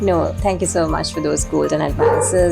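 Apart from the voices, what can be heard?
dog barking in the background, caged outside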